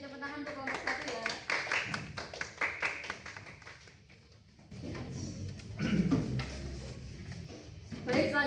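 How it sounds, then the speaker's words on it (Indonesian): A group of students gets clapping from classmates after finishing a classroom presentation. A dense patter of hands rises and falls over several seconds, mixed with voices talking across it. "Beri tepuk tangan untuk kelompok 1 ya"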